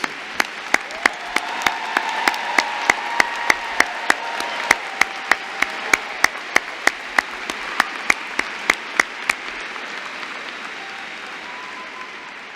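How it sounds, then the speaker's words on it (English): Applause at the Oak Mountain High School commencement for standing honor graduates: a soft crowd clapping bed with sharp, evenly spaced claps about three per second that stop after nine seconds, leaving the applause fading out. "Honor graduates, please stand and join me in a round of applause"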